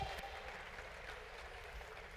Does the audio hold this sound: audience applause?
yes